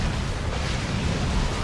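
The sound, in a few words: creeping artillery barrage explosions in Dawn of War 2 video game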